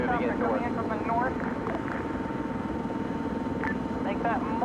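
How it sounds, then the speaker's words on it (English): A helicopter approaches in a military video game with airborne troops and German armor, its steady rotor drone running continuously beneath nearly constant talk. "Helicopter coming in from the north."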